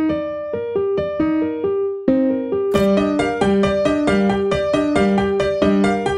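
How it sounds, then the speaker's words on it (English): A second piano part from a produced song, clean plucked piano notes in a steady rhythmic pattern, sparse at first and then a fuller, brighter chordal layer joining at about the midpoint, loud and upfront with no voices. "Then we have another piano, which sounds like this."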